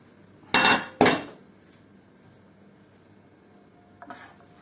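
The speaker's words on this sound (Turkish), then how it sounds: "Şimdi pilavımızı karıştıralım arkadaşlar." Rice pilaf with orzo-like vermicelli being stirred in a pot gives two loud close scraping clinks of a utensil against metal near the start, then quiet, with one faint clink near the end.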